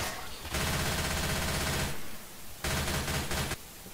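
Rapid automatic gunfire at zombies in Left 4 Dead 2 at the Dark Carnival fairgrounds, two loud sustained bursts separated by a short pause.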